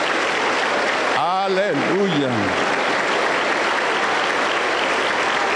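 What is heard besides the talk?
church congregation applauding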